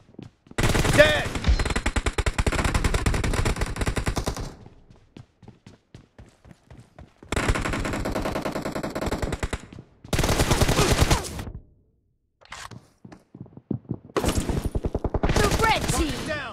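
M416 assault rifle fire in the mobile battle game BGMI rattles in long loud automatic bursts, broken by short pauses and a few brief shorter volleys.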